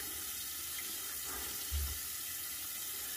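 Tap water runs steadily into a sink while rinsing during a wet shave with Crowne & Crane products, a soft continuous hiss throughout with a brief louder splash midway.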